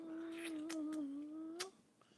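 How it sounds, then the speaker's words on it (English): Pet cat resting on a lap gives a single short, faint meow with a rising then falling tone, heard alone in a quiet room. "My cat, she's in my lap."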